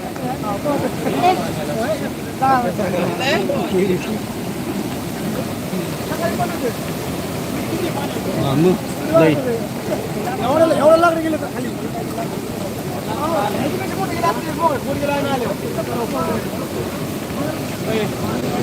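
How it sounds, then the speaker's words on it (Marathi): The flooded Sindfana river rushes over a fully submerged bridge, a steady loud roar of fast water with wind buffeting the microphone, while people talk over it throughout. "पूल हा पूर्ण पाण्याखाली गेलेला आहे पुलावरून गाड्या जात नाही आहेत रस्ता बंद झालेला आहे आणि पाण्याचा वेग वाढत चालला आहे"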